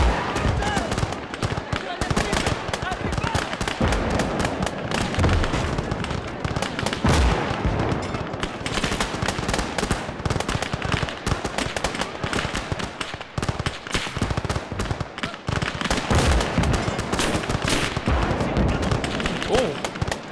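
Battle explosions in a war simulation video game, a clash of 2000 Italian Alpini against Hungarians at the Isonzo: dense, continuous crackling gunfire and bursts of blasts through the whole stretch, steady and loud, like a distant wall of combat.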